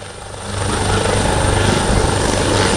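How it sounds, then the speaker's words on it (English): An Italian Coast Guard PH-139 helicopter at the Malta International Airshow 2025, its loud, steady rotor thrum and turbine whine growing slightly nearer and holding strong throughout. "The Italian Coast Guard uses the PH-139 helicopters for a variety of roles, most notably for search and rescue and maritime patrol."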